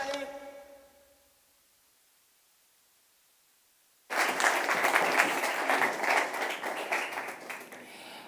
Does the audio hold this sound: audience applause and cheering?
yes